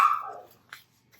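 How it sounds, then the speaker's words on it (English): A pet dog named Bumble lets out a single close bark that trails off, followed by a shorter, softer yip a moment later in an otherwise quiet room. "Speaking of dogs, she would not stop barking"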